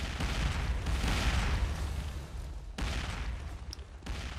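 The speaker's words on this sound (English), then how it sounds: "Grenade!" A grenade explodes in the shooter game District 187 amid a burst of rattling gunfire, giving a dense, booming rumble that fades and then flares again with a second heavy crack-and-roll.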